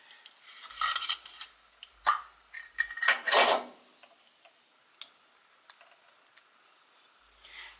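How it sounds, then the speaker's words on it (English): Jarred salsa being spooned into a pan, with a few scraping clinks of a utensil against glass and metal and a soft wet plop, close and intermittent with quiet gaps, no talking. "we're going to actually add in some salsa, and I have some salsa here jarred"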